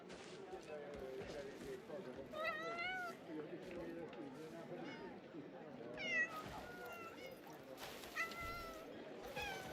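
A cat meows several times at moderate distance, short wavering calls rising over a busy mix of people talking and background noise.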